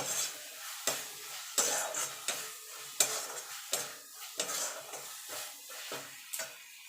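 Ground cumin and coriander with chili powder frying in a pan for egg chops, a low sizzle broken by regular scraping strokes of a spatula, about ten in steady rhythm, no talk.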